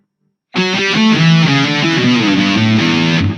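Distorted electric guitar plays a fast melodic riff, a run of quick picked notes moving across strings, loud and close with effects, starting after a short silence and playing alone.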